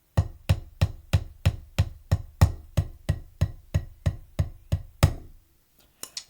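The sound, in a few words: drum strokes played incorrectly with slammed downstrokes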